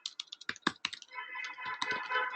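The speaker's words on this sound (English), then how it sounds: "So I'm going to remove this and start typing in." Keystrokes on a computer keyboard while an email is typed, a quick burst of close, light clicks followed by a denser, steadier run of tapping.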